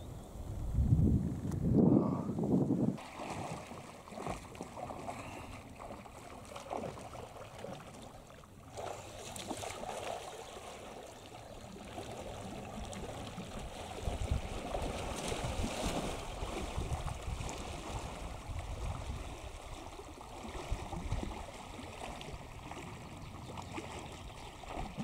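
River water rushing along in a strong current, a steady broadband wash with surging swells, loud at the start and continuous throughout with no voices.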